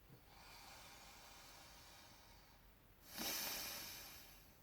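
A person breathes deeply and loudly in an exaggerated way, with a long hissing inhale or exhale followed by a stronger, louder rush of breath near the end.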